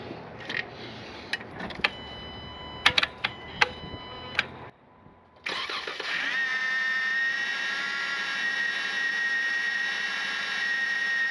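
A car engine with a failing bearing makes a few sharp taps and clicks, then starts and settles into a loud, continuous high-pitched whine and squeal that holds steady to the end.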